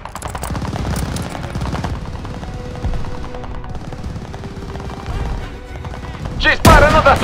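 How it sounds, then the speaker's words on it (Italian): Gunfire rains down from above in a Call of Duty: Vanguard hotel battle, with rapid machine-gun bursts and scattered shots rattling continuously, then a loud sharp blast near the end, under a busy wartime din. "Ci sparano dall'alto!"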